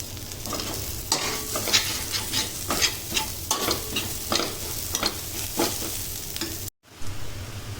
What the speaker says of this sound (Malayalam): നമ്മുടെ ഗോതമ്പ് റവ അതിലേക്ക് ചേർത്ത് കൊടുത്തിട്ടുണ്ട് നല്ലപോലെ ഒന്ന് മിക്സാക്കി